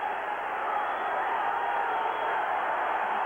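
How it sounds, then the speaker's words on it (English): A loud college basketball crowd roars steadily inside the arena in Fayetteville, Arkansas, a continuous dense wash of cheering that fills the whole moment without letting up. "Frank, we knew this crowd was going to be loud, but my goodness, are they ever."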